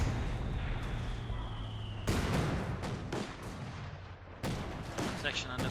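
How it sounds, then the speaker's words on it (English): A pair of 3-inch mortars in Company of Heroes 2 fire in loud, sudden booms, several heavy blasts spaced a couple of seconds apart over battlefield ambience. "Now getting up the mortar emplacement there with his pair of 3-inch mortars."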